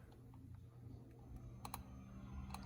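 Two quick pairs of mouse clicks, crisp and close, while installing AMS2000 software and firmware, over a steady low computer hum.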